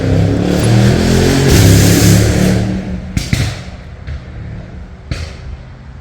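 A souped-up newer car roars past, loud and rumbling at first, then fading away, followed by a few faint knocks and thumps nearby.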